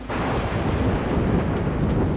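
Loud thunderstorm with pouring rain in the video game Road 96, a dense roaring wash of rain and low thunder rumble with gusty wind, steady throughout and without speech.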